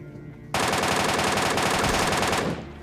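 Sustained rapid automatic gunfire in PUBG Mobile bursts in abruptly and rattles loudly for about two seconds before stopping, alone with no talk.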